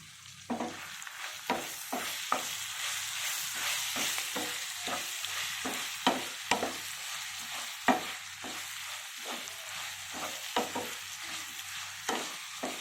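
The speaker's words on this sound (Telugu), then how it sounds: "ఈ తురుము కూడా ఒక 2 మినిట్స్ అలా వేగితే బాగుంటుంది." Grated raw mango frying in a hot oil tempering for mango rice, with a steady sizzle broken by repeated sharp scrapes and taps of a spoon stirring the pan.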